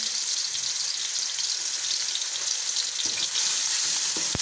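Medium onion, chopped, frying in oil with already-fried spices on the way to golden brown for restaurant-style mash daal; a steady, close, even sizzle with a soft hiss throughout and a couple of light stirring knocks near the end.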